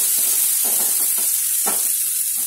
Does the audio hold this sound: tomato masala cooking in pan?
yes